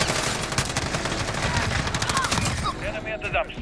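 Dense, rapid gunfire from a 725 shotgun and other weapons in a Modern Warfare online match, with shots overlapping in a busy, loud barrage and a player's voice mixed in.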